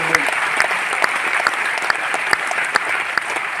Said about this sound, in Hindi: तो इस हॉल को बनाने वालों के लिए भी एक जोरदार तालियां हो जाए